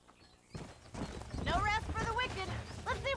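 Horses clip-clop along in the Western video game Red Dead Redemption, steady hoofbeats running under a voice and music, with a brief whinny-like cry partway through.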